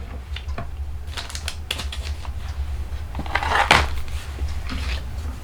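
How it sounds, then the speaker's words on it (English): A framelit die and card paper go through a manual die-cutting machine, giving a close run of creaking, clicking and grinding mechanical sounds with a louder ratcheting stretch near the end, over a low hum and with no talk. "let's go ahead and cut our framelit first"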